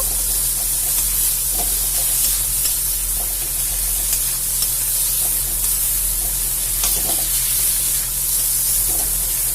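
Cauliflower fries in a pan while it is stirred, a loud continuous sizzle and hiss with occasional soft scraping of the spoon, close and steady, with no voices.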